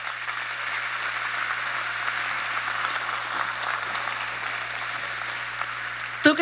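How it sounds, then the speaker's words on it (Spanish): A congregation at a Christian conference in Kansas applauds in a diffuse, steady wash of clapping, somewhat distant and even in level, with a low steady hum beneath it. "ese aplauso fuerte para el Rey"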